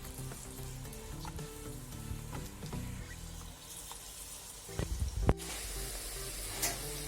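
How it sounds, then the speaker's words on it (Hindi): Potato chips for French fries frying in hot oil, a dense bubbling sizzle with scattered crackles and a few sharp clatters as pieces drop in, close and steady with faint voices in the background. "ऑयल गर्म हो गया, इसमें हम अपने जो चिप्स हैं वो डाल लेंगे एक एक करके।"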